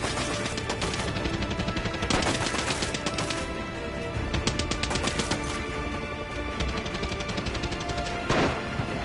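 Rapid gunfire in the video game Far Cry 6, dense bursts of automatic shots and single cracks running nearly continuously at loud, steady level.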